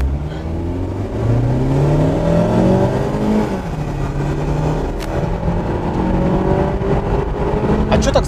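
A Toyota Camry surges hard in a straight-line race against a Mazda 6, its engine note climbing steadily through rising speed under a loud, constant road roar, while people talk over it inside the cabin.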